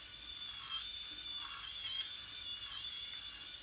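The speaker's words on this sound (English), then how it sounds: "shaving across that, it's much easier with this type of shaver" A Skull Shaver Pitbull Platinum PX5 electric head shaver runs against the back of the head, a steady close high-pitched motor buzz with faint scratchy rasps as it passes over stubble, no talking.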